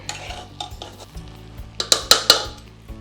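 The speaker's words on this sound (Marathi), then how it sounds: "सहा मिनटं आपण परतून घेणार आहे तांदूळ" Surti Kolam rice is stirred and sautéed with vegetables in a large pot for masale bhat, with a soft sizzle under scraping spoon strokes and a few sharp metallic clanks near the end, close and loud.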